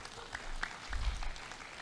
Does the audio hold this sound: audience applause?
yes